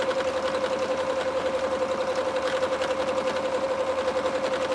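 A sewing machine runs steadily, stitching fabric soup bowl cozies, its rapid, even mechanical whir continuing unbroken and close throughout with no voices.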